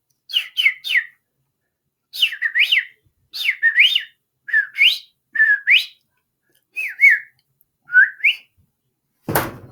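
A person whistles imitations of bird calls, close and clear: a series of short rising and falling chirped phrases in pairs and triplets separated by brief silences, ending with a sharp bump.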